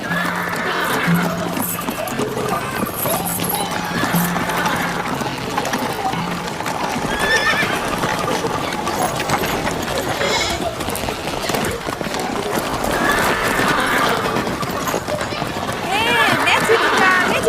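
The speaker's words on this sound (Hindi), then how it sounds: "मेरा घोड़ा ले जाओ" A horse neighs and its hooves clatter at a gallop through a dramatic television scene, with a busy, loud backdrop of music and other effects throughout.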